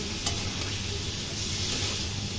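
Pieces of pointed gourd fry in a pan with a dense, continuous sizzle and hiss, steady and close throughout, with a faint stir early on.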